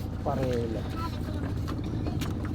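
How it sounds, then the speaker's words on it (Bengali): An engine-powered passenger boat crosses the Arial Khan river in rural Madaripur, its low steady drone running throughout beneath a brief whine and a person speaking. "মাত্র পাঁচ টাকা ভাড়া দিয়ে এই ইঞ্জিন চালিত নৌকায়"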